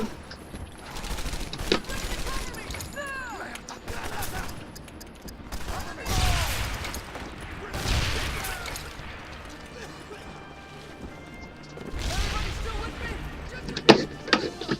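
Explosions go off in the video game Medal of Honor Airborne, heavy booms recurring every few seconds over gunfire and game noise, with a voice talking through parts of it.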